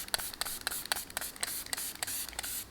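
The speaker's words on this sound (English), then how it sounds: "And before we move on, just going to use a setting spray," Short bursts of setting spray mist onto a made-up face, roughly eight quick hissing pumps in a steady rhythm at close range.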